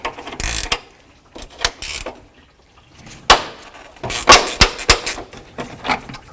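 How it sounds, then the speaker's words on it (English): A wrench works a bolt loose on a 1984-2001 Jeep Cherokee during water pump inlet tube replacement, giving a close, loud series of sharp metallic ratcheting clicks and clanks in irregular bursts with short pauses, no talking. "I'm going to loosen up this bolt first"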